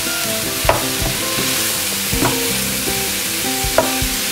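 Cauliflower rice frying with translucent onions in a pan and being stirred, a steady close sizzle broken by a few sharp spoon scrapes against the pan.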